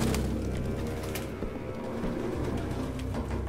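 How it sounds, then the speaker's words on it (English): A flock of pigeons coos softly in a run-down apartment in Detroit: Become Human, a low, continuous burbling close by with fluttering and scattered bird calls, no talking. "No human could live with all these fucking pigeons."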